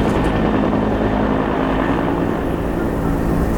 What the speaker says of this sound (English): There's constantly a helicopter flying around with this water raft.